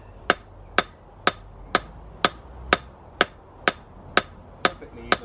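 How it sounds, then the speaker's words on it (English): A hammer strikes a hot arrowhead being forged, eleven sharp metallic hits at a steady, even rhythm about half a second apart, close and loud with quiet gaps between. "I'm just doing even hits onto it with the hammer at this point"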